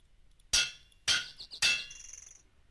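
Hammer smushing copper into plates in a modded crafting game: three sharp metallic clanks about half a second apart, each ringing briefly, the last with a lingering tone.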